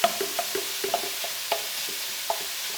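Sausage browning in a hot pan for a quick ragù, a soft steady sizzle punctuated by a series of sharp scraping and tapping clicks as it is pressed and stirred, close and clear with no talking.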